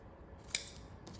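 Scissors cutting along a line on paper or fabric for hand sewing, a single quick close snip against quiet room tone.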